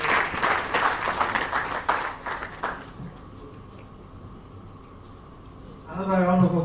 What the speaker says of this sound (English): Another round of applause for Orange CEO.